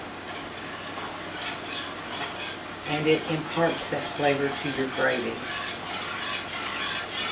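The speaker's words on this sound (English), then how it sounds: "So we're going to let this sizzle for a minute or two," Dark brown roux for gravy sizzles softly in a pan as it is stirred, with scraping and clinking of a utensil heard under a person talking.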